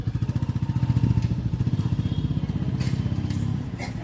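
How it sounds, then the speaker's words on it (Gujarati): A Royal Enfield Bullet motorcycle rides off with a steady, rapid thumping exhaust beat, close and loud at first and easing slightly as it pulls away. "જાય છે પરવીન મામા આપણે આટો મારવા બુલેટનો"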